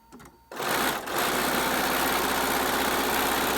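A sewing machine stitches a long seam on a cloth face mask, starting abruptly and then running loud and steady with a rapid mechanical rhythm.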